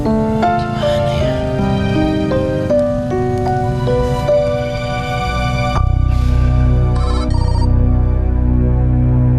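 A mobile phone ringtone plays loudly and continuously, a bright melodic tune of repeating electronic notes that changes pattern partway through, with no talking over it.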